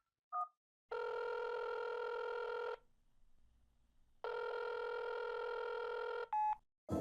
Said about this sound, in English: let's pick up the phone and get Oaklanders on the line